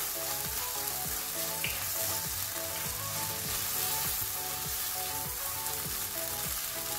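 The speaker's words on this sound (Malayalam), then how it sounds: "നമുക്കിനി ഇതിലേക്ക് ടൊമാറ്റോ സോസ് ഒഴിച്ചു കൊടുക്കാം. നന്നായി ഒന്ന് മിക്സ് ചെയ്യാം." Tomato sauce sizzles as it is stirred into frying masala in a pan with clear oil, a steady close crackle with scraping stirring strokes, no talk.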